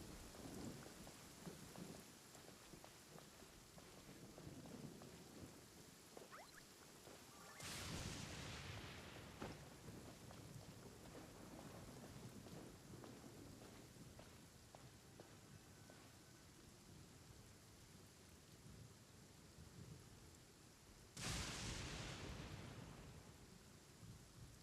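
A thunderstorm in the video game Genshin Impact: steady heavy rain hisses throughout while two loud thunder cracks split the downpour, each trailing into a rumbling roll, with no voices.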